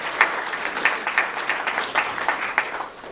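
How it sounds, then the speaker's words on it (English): Applause from a small audience at a New Hampshire political breakfast forum, thin, scattered clapping that rises and falls steadily for a few seconds. "So could we give a round of applause to the authors?"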